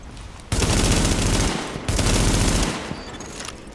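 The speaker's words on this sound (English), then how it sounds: "Warning, supply is taking fire." Automatic weapons fire in The Division video game comes in two loud, dense sustained bursts separated by a brief pause, dominating the scene.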